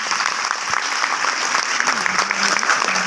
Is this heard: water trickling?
no